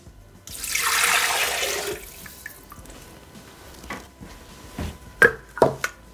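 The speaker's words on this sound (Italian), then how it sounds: "Senza lavare il boccale, mettere l'acqua" Water pours into the steel bowl of a Thermomix TM6 food processor in a steady rush lasting about a second and a half, then gives way to small clinks and taps as the bowl is handled, with no voices.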